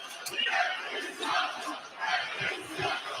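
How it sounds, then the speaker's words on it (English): A basketball arena crowd at an NCAA tournament game between Robert Morris and Alabama roars in protest at a foul call, a loud, surging mass of voices rising and falling in waves. "Crowd disagrees with the call."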